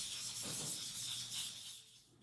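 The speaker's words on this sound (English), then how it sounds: "use 600 to 800 grit sanding paper to oil sand the surface" Steady, soft rubbing and abrasive scratching as 600 to 800 grit sandpaper oil-sands a popsicle-stick wood surface, continuous and close with a faint hiss, fading slightly at the end.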